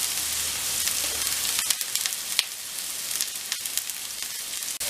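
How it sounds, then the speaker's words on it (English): Chopped carrots, spring onion and celery sautéing in a pan on low heat give a steady, close hiss and sizzle with faint crackles and a few soft stirring clicks, and no talk over it. "we're just going to keep this on a very low heat and just let this saute through"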